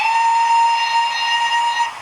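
A Hornby TTS model steam locomotive sounds its whistle, a steady, loud, sustained tone held for the full two seconds, alone and without talk.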